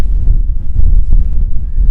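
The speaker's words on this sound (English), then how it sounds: "I don't know what you can hear because of the wind" Strong wind at a wet, windy wild camp buffets the microphone in a constant low roar with gusty surges, loud and close, no other sounds standing out.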